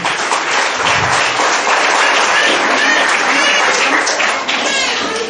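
An audience at a school-related parenting event breaks into loud, sustained applause, a thick wash of many hands clapping together without pause.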